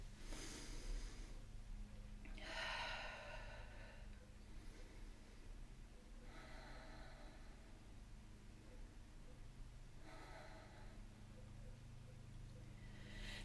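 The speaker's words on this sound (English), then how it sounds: "And just breathe." Slow deep breathing during a standing yoga flow class: long, airy inhales and exhales repeating about every four seconds, soft over a steady low room hum.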